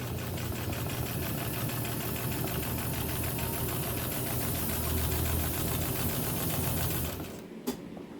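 A 103-year-old White Rotary electric sewing machine stitches steadily, a close, even mechanical whirring with a rapid rhythmic clatter that runs for several seconds, then stops, followed by a single faint click.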